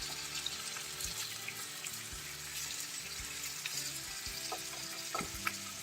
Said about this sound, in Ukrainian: Так, тепер ми кидаємо що з вами? Огірочки. Їх теж треба присмажити.